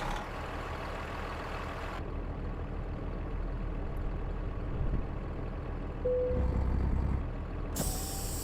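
A truck parking air brake in American Truck Simulator gives a sharp hiss near the end, after a quiet idle and a brief low mechanical clunk.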